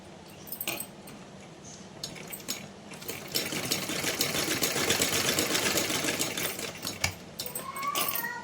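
A sewing machine stitches a slanted seam on a small Laddu Gopal summer dress made from a straight strip of fabric, running steadily and close for several seconds, with brief pauses and handling clicks.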